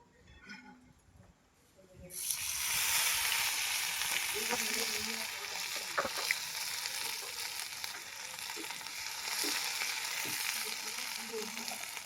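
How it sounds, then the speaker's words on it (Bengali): Small dried shrimp (ichi) hit hot oil in a pan for a potato, dried fish, bean and tomato bharta, starting a loud, steady sizzle after a brief quiet moment, with faint stirring clinks underneath. "এখন আমি যেটা দিব সেটা হচ্ছে এই ইচি কয়টা ভেজে নিব"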